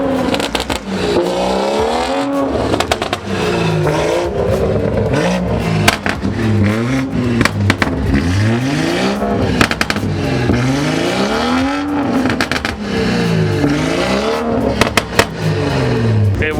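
BMW car revving repeatedly at a car meet, engine note surging up and falling back in several loud swells with crackling bursts and crowd noise around it.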